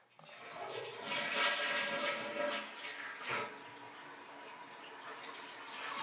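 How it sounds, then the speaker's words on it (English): A household toilet flushes in a steady rushing gush of water, then keeps running as the tank starts refilling, heard close and moderately quiet with nobody speaking. "let me try to flush the toilet and see what happens."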